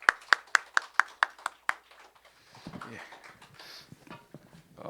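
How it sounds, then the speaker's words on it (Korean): At a Korean church's New Year's Eve worship service, seven sharp, evenly spaced claps ring out close by, then give way to faint scattered shuffling and murmuring. "우리 박수로 서로 격려를 합니다"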